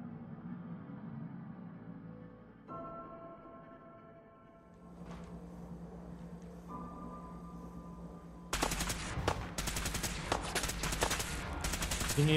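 Fallout 4 gunfire in the Far Harbor setting, starting with hums and a few isolated shots before breaking into loud, rapid sustained bursts of shooting that continue to the end.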